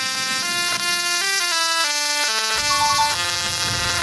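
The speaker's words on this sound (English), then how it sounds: "Tesla coil." A musical Tesla coil plays a melody of harsh, buzzing electric tones that step through several pitches, loud, continuous and close with no voices.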